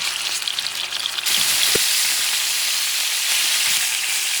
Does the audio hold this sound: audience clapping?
no